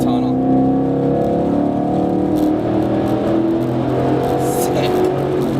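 A 2011-2014 Mustang GT fitted with a Borla exhaust drives through a tunnel. Its loud, deep exhaust drone echoes steadily and swells slightly as the car moves along.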